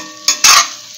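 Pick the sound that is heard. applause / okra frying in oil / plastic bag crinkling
okra frying in oil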